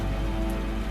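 Steady rain falls outside a house, a dense, continuous patter and hiss that stays loud and even throughout this short moment.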